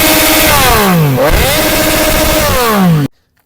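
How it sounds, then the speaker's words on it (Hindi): A Triumph Street Triple motorcycle engine revs loud and close, climbing and dropping in pitch through several throttle blips before cutting off abruptly into silence. "तो ये कुछ साउंड है जो हम लोग आपको बाइक का दिखा रहे हैं।"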